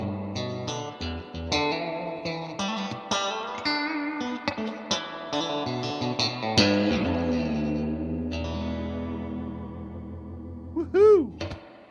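An electric guitar plays through a car amp with lush reverb, strummed chords and single notes ringing out with long, shimmering decay, ending in a few wobbling, swelling tones.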